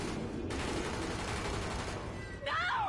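A short burst of gunfire from the video game The Division, rapid shots packed together and loud, with a game character's voice close by.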